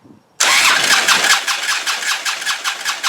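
A fuel-injected Harley-Davidson Road King with a fuel system fault cranks and catches after a brief quiet moment, then settles into a loud, steady, throbbing idle close by.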